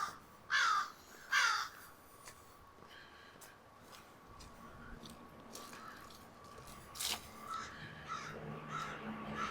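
Crows caw overhead in an urban park in Regina, with two loud calls close together early on and then fainter, scattered caws over quiet outdoor ambience.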